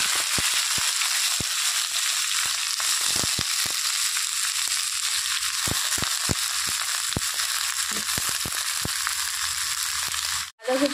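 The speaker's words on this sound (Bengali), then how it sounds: "এর মধ্যে দিয়ে দিব বাঁধাকপি।" Shredded cabbage hitting hot oil tempered with five-spice (panch phoron), a loud continuous close sizzle and crackle with scattered sharp pops and clatters, briefly cut near the end.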